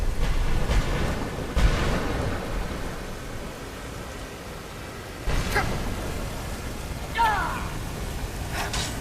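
Thunder strikes called down by a shout in the video game Skyrim, with several loud cracking booms spaced seconds apart over a low rumbling, windy background.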